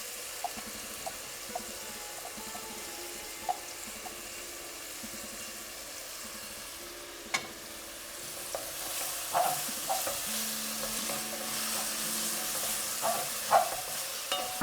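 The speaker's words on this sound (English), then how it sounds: "And then in goes the onion." Onion frying in a pan for an Indian drumstick curry, a steady low sizzle throughout with occasional stirring clicks and scrapes, close by and without talk.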